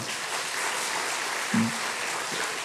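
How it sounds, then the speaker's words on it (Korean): A church congregation applauds a singer during a Sunday morning worship service, giving a steady wash of clapping that carries through the whole moment with a brief low tone near the middle. "한 번 더 박수로 격려합시다."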